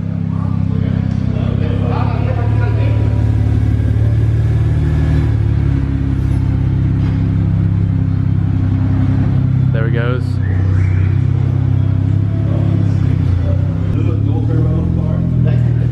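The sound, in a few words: BMW 335is N54 upgraded turbo engine first startup idling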